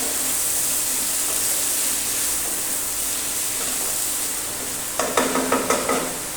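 Tomatoes fry in a pan with a constant close sizzle, and near the end a spoon stirs them in a quick series of scraping knocks.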